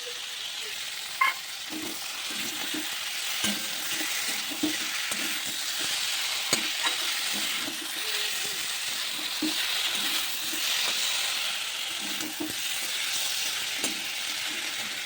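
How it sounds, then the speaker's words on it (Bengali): Ground spices with ginger-garlic paste sizzle and fry steadily in a hot pan on a home stove, a continuous close crackle broken by stirring scrapes, with a voice speaking softly now and then. "এটা এখন কষাতে হবে"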